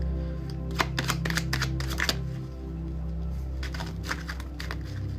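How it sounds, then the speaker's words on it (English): A deck of tarot cards shuffled by hand, with rapid bursts of riffling and flicking over a steady low hum, close and fairly quiet, with a pause in the middle before another round of shuffling. "These freaky ass cards are shuffled every which way."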